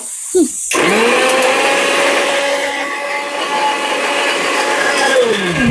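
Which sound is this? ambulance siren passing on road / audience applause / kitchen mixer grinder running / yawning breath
kitchen mixer grinder running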